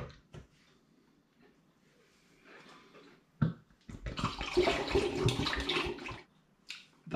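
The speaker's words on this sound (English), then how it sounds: "I'm now filling another 750ml bottle up with the must" Blackcurrant red wine must is poured into a 750ml bottle, a close, splashy liquid rush that builds after a few brief knocks and runs for about two seconds before tapering off.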